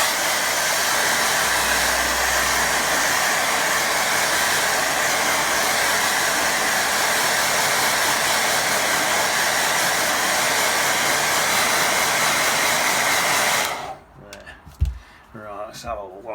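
A hair dryer blasts steadily and loudly onto a freshly painted watercolour sky, then cuts off near the end, leaving quieter handling sounds.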